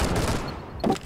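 A quick volley of gunfire in the video game Rainbow Six Siege, a few sharp rattling shots close together, with a louder burst near the end.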